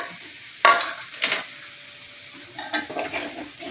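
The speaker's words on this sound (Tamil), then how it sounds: "ഇനി ആ തേങ്ങ പോട്ട് ഇളക്കിയിട്ട് ഒരു 2 മിനിറ്റ് കഴിഞ്ഞ് അണച്ചോളും." Grated coconut is stirred into raw jackfruit in a pan, giving a few scraping strokes of a spoon against metal over a soft steady sizzle.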